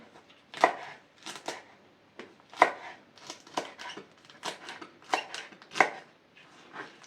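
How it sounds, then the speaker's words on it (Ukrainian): Knife chopping tomato stems into pieces on a board for pickled tomatoes, a steady series of crisp, close, moderately loud cuts with short pauses between them. "Гарненько поріжу кусочками"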